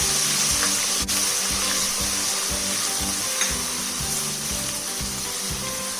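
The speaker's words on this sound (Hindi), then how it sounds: "1-2 मिनट इसको भून लेते हैं ताकि इसका कच्चापन चला जाए।" Steady, continuous sizzling of garlic-ginger paste frying in hot oil, close and fairly loud, with a faint clink partway through and no talking.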